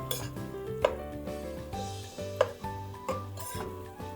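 Chicken for chopsuey stirred in a pan, with metal spatula scrapes and a couple of sharp clinks against the pan over a faint sizzle, close and fairly quiet with no talking.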